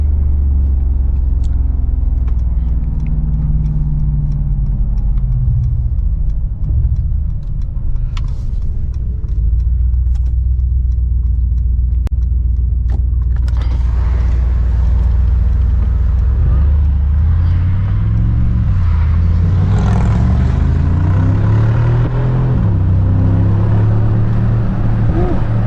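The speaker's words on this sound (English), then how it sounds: "Nothing sounds as good as a G-Wagon." Mercedes-AMG G63 G-Wagon SUV, broken in, with a deep steady engine rumble while driving, rising in pitch as it accelerates partway through amid road and cabin noise, no voices over it.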